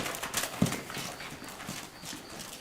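A horse loping under a rider during a first ride, with soft, irregular hoof thuds at mid distance and one sharper knock near the start.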